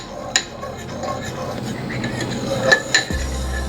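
Dosa batter being mixed with salt and black pepper powder in a bowl, with scraping and stirring, a few sharp clinks of a utensil against the vessel, and a thud near the end.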